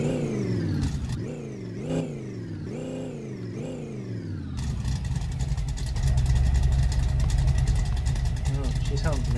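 Engine of a car with a 5-speed gearbox in the My Garage video game, revved in several rising and falling sweeps before settling into a loud, steady, rough drone; someone talks over it.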